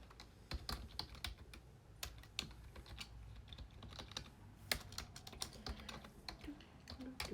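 Fingers type on a computer keyboard in quick irregular bursts of light clicks, close and quiet, without voices.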